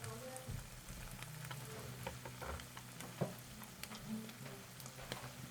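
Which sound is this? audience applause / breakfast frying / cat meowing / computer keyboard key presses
breakfast frying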